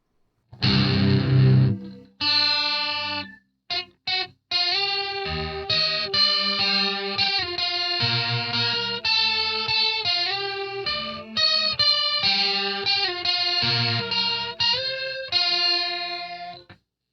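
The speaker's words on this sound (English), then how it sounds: "So the first one should be chorus." Electric guitar played through a VOX Amplug 2 Metal headphone amp with its chorus effect on and distortion, a shimmering, wavering tone over strummed chords and picked notes with brief pauses, alone without talk.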